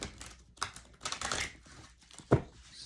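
A deck of I Ching cards is shuffled by hand, giving soft papery riffles and flicks in a few quick bursts with a sharper snap near the end, quiet and close.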